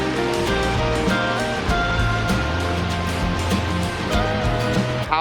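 Backyard waterfall water feature pouring steadily nearby, a loud continuous rushing splash that stays even from start to end, with no talking.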